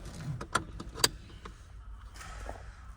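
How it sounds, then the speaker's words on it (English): Seat belts are tugged and buckled inside a 2025 Maserati MC20 Night Edition cabin, giving a few sharp metallic clicks and latch snaps with soft rustling between them, close by. "So now let's test out the seat belts."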